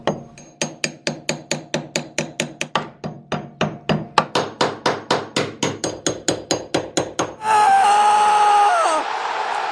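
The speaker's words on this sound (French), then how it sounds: "il faut l'enlever avec tournevis et marteau." A hammer drives a screwdriver to knock a brake off a Citroën 2CV axle, striking metal in a steady series of sharp, close blows, followed by a brief grinding scrape.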